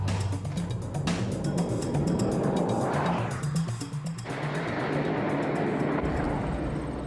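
A 1999 Ferrari 550 Maranello runs flat out on a track, its engine a loud, steady roar that swells and shifts as the car passes, continuous with no lifts.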